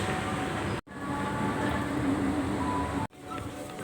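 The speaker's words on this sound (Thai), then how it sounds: "ลงใต้ดินนั่งรถไฟฟ้าใต้ดินเนาะ" An underground metro train rumbles loudly through a subway tunnel, a dense continuous roar with faint tonal whine, broken by two brief sharp drops in level before the rushing noise resumes.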